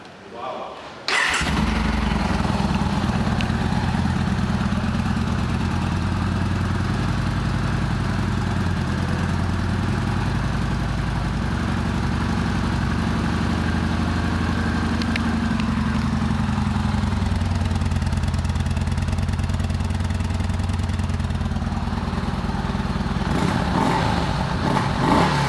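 A 2015 Yamaha Bolt 950 R Spec motorcycle starts up and settles into a steady, loud, rumbling idle that runs without a break, close to the listener.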